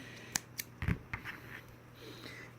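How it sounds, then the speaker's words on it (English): A few quick, sharp snips from small scissors cutting crochet yarn, close by, spaced out over a couple of seconds against a quiet background. "now we're going to fasten off, so you'll need your little scissors."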